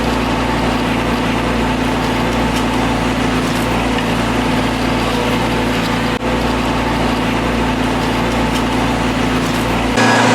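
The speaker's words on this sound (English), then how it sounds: "We're just bringing the machine back to backfill the hole. It's a little micro 80, 1-ton machine." A small 1-ton Micro 80 mini excavator engine runs steadily at close range, a loud continuous drone with no talking, while backfilling an oil tank removal hole.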